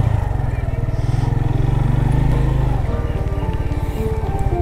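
A motorcycle engine putters loudly up close, its throb steady then shifting pitch as it slows, with no talking.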